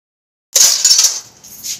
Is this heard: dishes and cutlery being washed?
yes